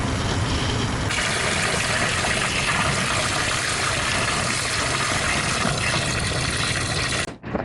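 A toilet tank refills after a flush, with steady loud rushing and hissing water that continues for about seven seconds before cutting off abruptly near the end.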